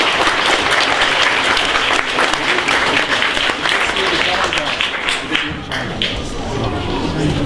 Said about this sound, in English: Final round of applause for these guys.